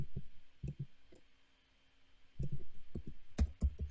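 Computer mouse clicks during a software onboarding session: a couple of crisp close taps, a brief quiet gap, then a quicker burst of several clicks.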